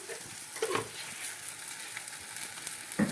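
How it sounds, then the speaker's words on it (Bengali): Onion and garlic sizzle steadily in a hot pan, with a few soft scrapes of stirring breaking through the hiss. No one speaks. "এবার এটার সঙ্গে পেঁয়াজের রসুনের সঙ্গে ভেজে নিচ্ছি ভালো করে"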